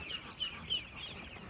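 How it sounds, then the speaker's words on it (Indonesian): Day-old meat-breed ducklings crowd a box, giving thin, high-pitched peeps in a steady, busy chatter at close range. "Nah, ini ada bebek pedaging ya rekan-rekan."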